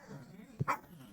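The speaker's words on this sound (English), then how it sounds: "Sorry about the dog, everybody." A female dog barks once or twice nearby during an online co-op tabletop gaming session, a short sharp burst over quiet room tone.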